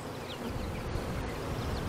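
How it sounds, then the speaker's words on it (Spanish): Honeybees foraging for pollen near blueberry crops, a dense, steady buzz of many insects close by, continuous and fairly loud with no voices. "Las abejas saldrán a buscar polen para las crías"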